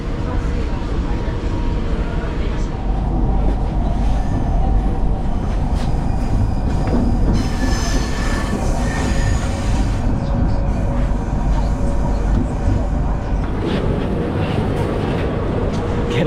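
A crowded passenger train near Monastir, Tunisia rolls along with a continuous loud rumble and rattling wheel clatter. Squeals and thumps come through now and then, and voices chatter throughout the carriage.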